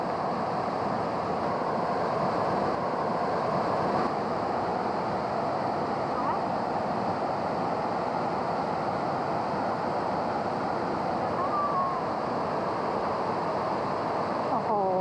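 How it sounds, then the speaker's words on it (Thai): Huay Hoi waterfall in Mae Wang produces a constant broadband rush of falling water that stays steady throughout, with faint voices and a brief whistle-like tone near the end. "ฉากหลังเป็นม่านน้ำตก"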